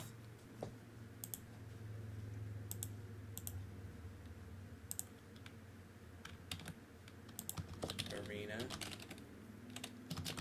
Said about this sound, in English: Typing it over and over and over.